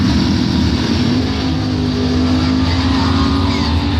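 Drag race cars with loud, steady engine roar at a Top Doorslammer round, among them a Camaro doorslammer from Benzonia. The noise is continuous and close, with a sustained high-rpm drone throughout.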